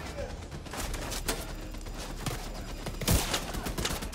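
Gunfire in the video game The Division 2 comes as a rough, rapid volley of shots and impacts under a busy game soundscape, with one louder burst near the end.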